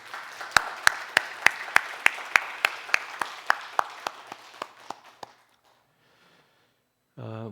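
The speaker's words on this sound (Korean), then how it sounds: "우리 강사님에게 격려의 박수 한번 드리겠습니다." A church congregation at a Friday evening worship service claps for a guest speaker, a steady, evenly spaced rhythm of about fifteen loud claps over a soft wash of applause that stops abruptly, followed by silence and then a voice.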